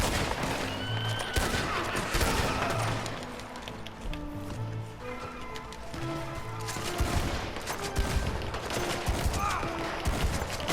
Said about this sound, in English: You see, that's a Lancaster repeater in for you.